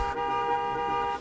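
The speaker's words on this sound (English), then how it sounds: "The dad pulls into the driveway and does like 3 or 4 courtesy honks" A car horn sounds in one sustained toot in a movie scene as a father pulls into the driveway, clear and steady for about a second.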